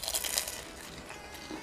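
Crisp homemade spring roll dipped in Thai sweet chili sauce being bitten, a close, brief crackling crunch at the start that quickly fades into quieter chewing.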